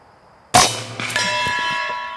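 A .25 caliber (6.35 mm) AirForce PCP air rifle fires a single sharp, loud shot, followed by a lingering metallic ringing that fades slowly.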